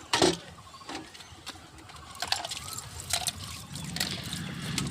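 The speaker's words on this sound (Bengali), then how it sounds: "বাবু জল নিয়ে খেলছে" A baby splashes and plays with water at home, making intermittent trickles and sharp splashes close by, with soft background noise and a faint bird call.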